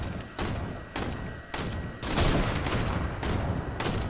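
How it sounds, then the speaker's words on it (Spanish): Fortnite gunfire rattles in dense, loud volleys of rapid shots, broken by brief pauses roughly every half second and continuing without letup through the whole stretch. "Sincronicemos los disparos"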